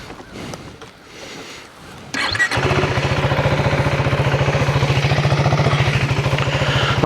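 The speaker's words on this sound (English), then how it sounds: "Let's turn the bike on" A 2025 KTM 390 Enduro R single-cylinder motorcycle cranks and starts, then settles into a steady, loud, close idle with an even pulsing thump.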